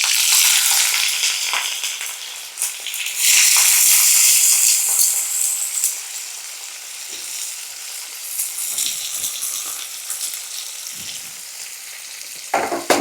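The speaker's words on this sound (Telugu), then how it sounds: "4 పచ్చిమిరపకాయలు, చిట చిట అంటున్నాయి కదా" Green chillies crackling and sizzling in hot oil, a steady bright frying hiss with small pops, louder around the middle and settling toward the end, with light stirring, no voices.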